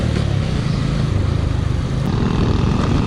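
Motorcycles ride along a road toward the sea in Lian, Batangas, their engines giving a loud, continuous droning rumble close by, heavy with wind buffeting and no talking.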